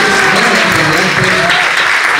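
A brief, loud burst of applause fills a room at a literary event recognizing a student, steady clapping with no pauses.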